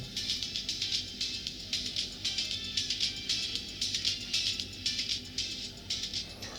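Faint, tinny music leaking from small Truke earbuds, a steady rhythmic pulse with thin high-end, heard at a distance with no talking.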